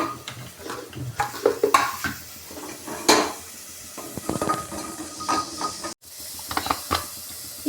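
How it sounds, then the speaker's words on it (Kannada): Four green chillies frying in a pan for a milk sambar, with a soft sizzle under scraping and stirring and a few sharp metal clinks and knocks against the pan. No one speaks. "ಈ ಪ್ಯಾನ್ಗೆ ಒಂದು ನಾಲ್ಕು ಹಸಿಮೆಣ್ಸಿಕಾಯಿ ಹಾಕಿ ಫ್ರೈ ಮಾಡ್ಕೊಳ್ಳೋಣ"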